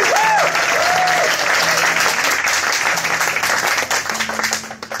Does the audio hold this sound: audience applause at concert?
yes